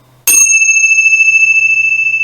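A single meditation bell is struck once, close and bright, then rings on in a long, steady, slowly fading tone over quiet room hiss.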